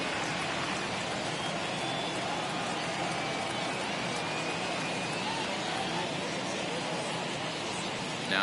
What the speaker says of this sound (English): Well, that rain is really coming down right now.